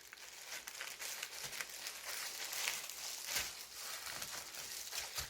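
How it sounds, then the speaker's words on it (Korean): A plastic sheet crinkles and rustles close up while it is pressed over sticky rice cake to shape it, a soft, continuous, fairly quiet crackle with no talking. "일단은 이 비닐로 덮어가지고 모양을 잡아보도록 하겠습니다"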